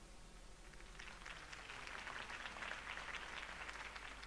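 A crowd applauds in a Batman video game, clapping swelling slightly and holding steady, slightly muffled and at a moderate distance.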